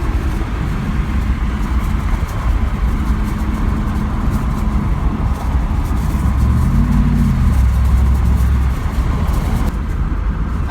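A 1997 Camaro Z/28 with a rebuilt engine pulls hard on a freeway, a loud, steady in-cabin engine roar climbing in pitch through second gear, with a brief shift and continuous road noise.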